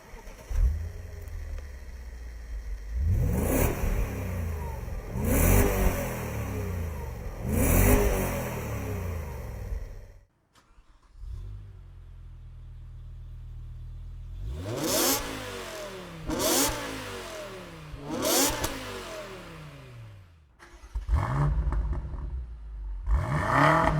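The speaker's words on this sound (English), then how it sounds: "I'm sitting here in a multi-storey car park revving the nuts off the new M5" A 2018 BMW M5 F10 engine revs hard again and again in a multi-storey car park, each blip climbing and falling sharply, loud and echoing.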